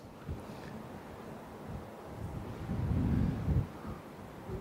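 Strong gusty wind buffets the microphone beside the runway at RAF Lossiemouth, a steady low rumble that swells louder around the middle before easing, with no voices.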